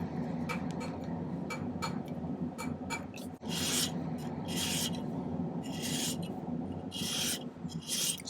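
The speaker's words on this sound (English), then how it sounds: "Just kind of filing the bottom flat a little bit." A file rasped against the bottom of a silver ring to flatten it, close and fairly quiet, in short repeated strokes with a few brief pauses.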